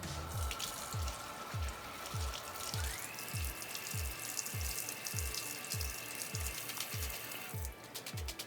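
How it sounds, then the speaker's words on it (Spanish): Shrimp are rinsed under a running kitchen tap, a steady close splash of water that holds throughout, with repeated low thumps and a brighter tone rising partway through. "Después le vamos a dar una muy buena enjuagada para remover cualquier suciedad que se pudo haber quedado en el camarón, aquí bajo el chorro del agua"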